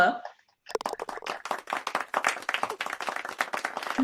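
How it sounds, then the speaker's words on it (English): Polite golf clap from a distant gallery in the WGT golf video game, a cluster of light scattered claps after a brief pause, running under a commentator's voice. "There's a little golf clap there in the distance"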